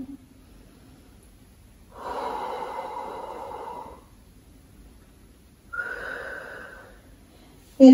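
Heavy breathing during a toning workout stretch, two long audible breaths, each lasting about two seconds with a pause between, close and fairly loud with no talking.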